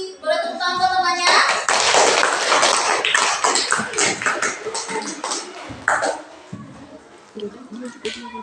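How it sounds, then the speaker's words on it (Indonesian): Classmates clapping in a classroom during a student group presentation, a burst of hand claps and tapping that swells early then thins out, with speech mixed in over it. "Boleh tepuk tangan buat temannya."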